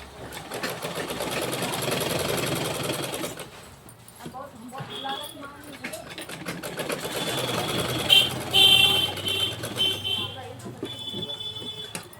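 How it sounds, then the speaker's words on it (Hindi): Sewing machine stitching the sleeve of a blouse, a steady mechanical whirr in several bursts with short pauses between, with someone talking over it. "इस तरह से इस तरफ भी सिलाई लगा लेनी है।"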